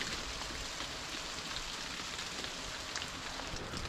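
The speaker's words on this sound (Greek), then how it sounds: "Μιλάμε για παγωμένη βροχή." Freezing rain falls outdoors on a winter trip, a steady soft hiss of drops on surfaces, even and unbroken with no voices.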